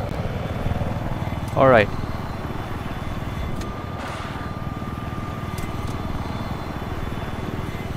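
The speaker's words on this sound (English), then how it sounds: "attack chopper right behind us" Attack helicopter in Battlefield 4, its rotor and engine thrumming steadily nearby through the whole stretch, with a player talking over it and a brief louder burst of game effects.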